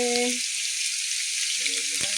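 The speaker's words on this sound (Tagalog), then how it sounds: "prito na din natin yung kamote" Loud, constant hiss and crackle of sweet potatoes frying in oil, with brief tonal clinks or hums at the start and end.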